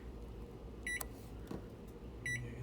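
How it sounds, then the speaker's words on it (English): A microwave oven runs with a single marshmallow inside, a faint low hum broken by two short electronic beeps. "what happens when you place for 1 minute a marshmallow in a microwave"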